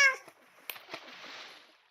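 Cat meowing in the video game Minecraft, a single close meow at the start followed by faint soft game sounds and clicks.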